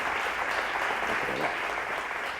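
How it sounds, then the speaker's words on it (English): An audience applauds a speaker at a social innovation and public policy talk, a dense, steady round of clapping that fills the room throughout. "a big round of applause for you"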